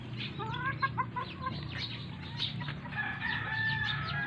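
Laying hens clucking and cackling in a noisy coop, with a rooster-like call and busy bird chatter over a constant low hum.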